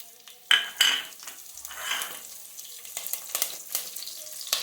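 Close sizzle of mustard seeds and spices frying in hot oil, with a couple of sharp metallic clinks early on and light crackling throughout.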